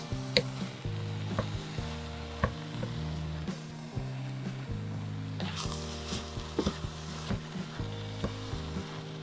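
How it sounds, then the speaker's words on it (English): Cream stirred into a sizzling pan for low-carb chicken fried steak gravy, a steady close frying hiss with soft scraping and clinking of the spoon against the pan throughout, no talk. "I put about half of a cup of cream in there, and I'm gonna mix it up."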